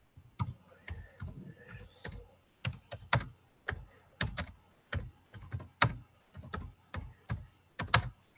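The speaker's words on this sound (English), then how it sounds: "I hear someone typing." Someone types on a computer keyboard during an online maths lecture Q&A, with clustered bursts of clacking keystrokes heard close and clear, separated by short pauses, and no one speaking.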